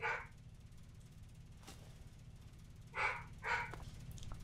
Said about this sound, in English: my dog is loud